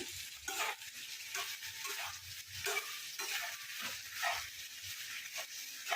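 Soft, rhythmic scraping and stirring in a pan with a faint sizzle underneath, repeated strokes about every half second, fairly quiet and close.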